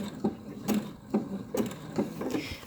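A sewing machine stitches a fabric applique while the fabric is turned to form the stitch along the outside, giving a steady run of close mechanical clicks and thumps at an even, rhythmic pace, without speech.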